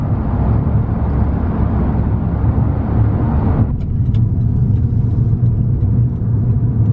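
A Lyft rideshare car rumbles close by at a pickup stall, a loud broad engine and road drone that suddenly drops to a lower, softer rumble partway through, with a few faint clicks afterward.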